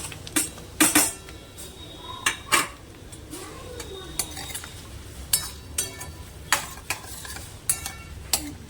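Ginger, garlic, chilli, capsicum and onion sautéing in butter in a pan, with a steady sizzle under sharp, repeated clinks of a spatula striking the pan, close and clear, no talking.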